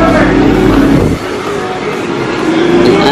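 A Yamaha Sniper 150 motorcycle fitted with a KTM 390 swing arm runs loud and close during a brake test. Its engine drones steadily, then drops in pitch after about a second and keeps running.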